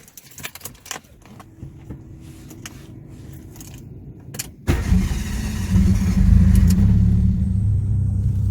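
Car engine cranked and started after a few light clicks and rattles, the motor catching near midway and settling into a loud, steady rumbling idle.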